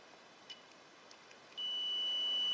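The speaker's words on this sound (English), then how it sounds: "This way it would indicate continuity by beeping." A faint tap, then a multimeter's steady high-pitched continuity beep starts as the two probes touch and holds continuously until the end, fairly quiet and alone.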